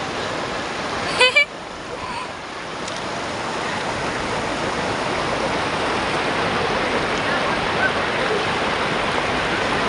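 A mountain river rushes with a steady, continuous flow of water close by, holding an even level throughout, with one brief sharper sound early on.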